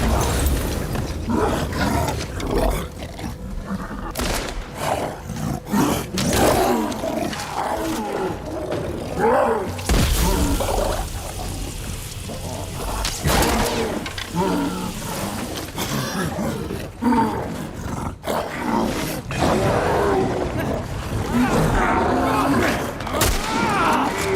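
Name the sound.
big infected creature roaring, from video game The Last of Us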